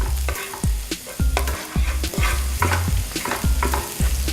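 Dry chili stirred in hot oil in a wok for General Tso's chicken, a steady sizzle under rhythmic scraping strokes of a spatula, about eight stirs, close and fairly loud, no voices.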